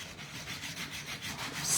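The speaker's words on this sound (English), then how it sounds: "this is just sandpaper" Sandpaper roughing up two-tone white-core cardstock, a steady close scratching rub in rhythmic strokes.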